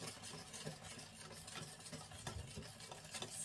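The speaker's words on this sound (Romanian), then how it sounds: "Amestec încet." Spoon or whisk slowly stirring cocoa and starch into cold milk, a soft continuous scraping and swishing at low volume under a faint steady background hum, with no voices.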